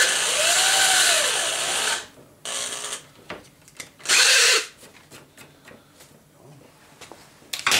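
A power drill drives screws into an arcade cabinet control panel. There is a long whirring run that rises and falls in pitch, shorter bursts after it, and scattered clicks and handling knocks between them.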